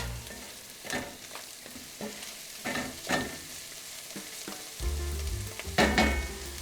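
Diced celery and carrots sizzle in a pan, a close, soft, continuous frying hiss with repeated bursts of stirring and scraping at irregular intervals and no talk.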